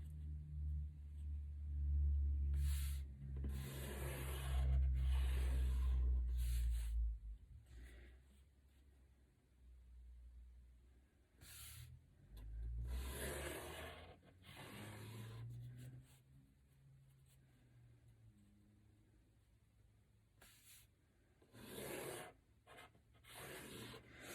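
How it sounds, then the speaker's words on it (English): A marker ruling grid lines across paper, soft scratchy strokes in several separate bursts, close up and alone, with a low rumble early on. "And now I'm going to connect my tallies using that same marker. This is creating my first grid."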